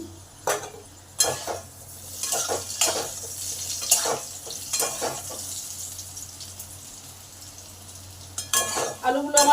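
Potatoes frying in a pan with oil, a low sizzle under repeated scraping and stirring strokes, close and uneven, with short gaps between bursts and no talk.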